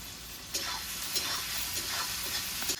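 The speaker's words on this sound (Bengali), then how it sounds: "একটু নেড়ে চেড়ে লাল লাল করে ভেজে নেবো পেঁয়াজটা।" Onions being stirred and fried until reddish give a close, steady sizzle with quick scraping strokes of the spoon against the pan.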